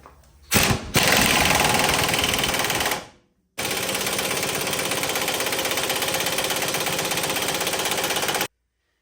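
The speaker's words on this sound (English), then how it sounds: "we got our ball joint press all set up from the master kit" A ball joint press set up with a cone adapter works on an original, rust-seized ball joint in the lower control arm of a Chevy Trailblazer, giving loud, rapid hammering bursts, a short burst, then a longer sustained run close by.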